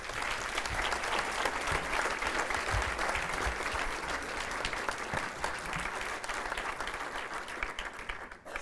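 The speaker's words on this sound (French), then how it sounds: "Et je voudrais qu'on l'applaudisse très fort." An audience at a European growth-projects conference gives Cédric Villani sustained applause, with dense, even clapping from a large crowd heard from a short distance and fading out at the very end.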